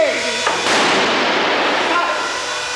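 A pyrotechnic charge goes off inside a scorpion creature puppet on a film set, a loud sustained roaring blast that fills the air for a couple of seconds, heard under a voice.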